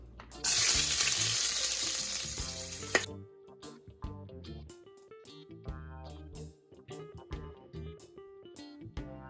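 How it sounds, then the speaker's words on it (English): Garlic dropped into very hot oil on a stove for a vegan eggplant curry, giving a loud, bright sizzle for a few seconds that cuts off abruptly, followed by quieter clinks and background kitchen sounds. "I'm going to place my garlic into my oil."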